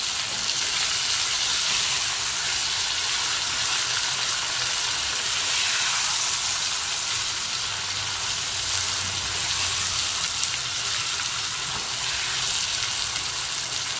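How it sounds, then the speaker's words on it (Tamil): Whole peeled small onions (shallots) sauté in oil for a curry, giving a steady, even sizzling hiss like light rain, with no talking. "ஒரு 100 கிராம் வெங்காயம் முழுசு முழுசாவே அரைப்பதமா வதங்கட்டும்"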